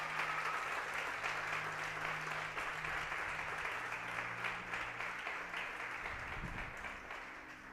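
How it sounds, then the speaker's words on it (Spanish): A congregation applauds God during a church service, sustained, even clapping from a large room that holds steady for several seconds, heard at a distance and fairly soft, tapering slightly at the end. "denle ese aplauso al Señor"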